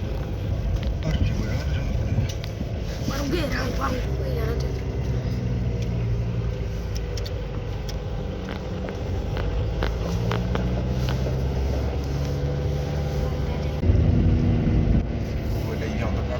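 Steady low rumble of a car's cabin while riding along on a village road in Nepal, with a continuous engine and road drone throughout, a brief louder surge near the end, and people chatting over it.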